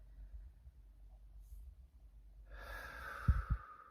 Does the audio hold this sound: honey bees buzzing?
no